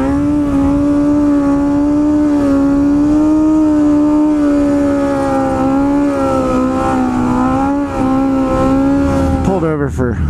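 Worn-out motorcycle with a dead tachometer, its engine running in a steady loud drone with slight pitch wobble that rises and falls, then a quick upward rev near the end, close up.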